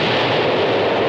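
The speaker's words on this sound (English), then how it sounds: "Sometimes the echoing of a cannon shooting across the water stirs up the river and brings sunken things up to the surface." A cannon shot in an animated film rolls out across a river as a loud, sustained boom and rumble, with its echo filling the whole moment and no voices over it.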